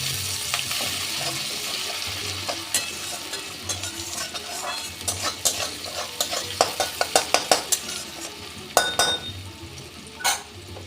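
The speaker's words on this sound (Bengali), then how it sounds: "পেঁয়াজটা ভাজা হয়ে গেছে লঙ্কাটাও ভাজা হয়ে গেছে দেখুন একদম ভাজা ভাজা করে নিতে হবে" Chopped onion and two green chilies frying in oil in a pan, a steady close sizzle broken by a run of rhythmic scraping and clinking strokes from a spatula stirring against the metal.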